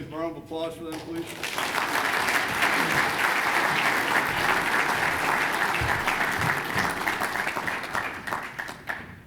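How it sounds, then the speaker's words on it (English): An audience at a military keynote address breaks into sustained applause after a speech ends, broad steady clapping rising quickly and holding loud for several seconds before easing slightly at the end. "Have a round of applause for them, please."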